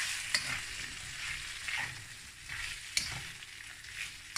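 Spices sizzle and fry in a pot for curried beef stew while a spoon stirs them. A steady crackle carries occasional scraping taps, close and without any voices.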